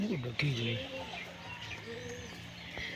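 Jack Madras pigeons coo close by, soft rolling throaty calls repeating over a low steady hum, with no talk.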